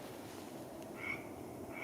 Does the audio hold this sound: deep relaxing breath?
no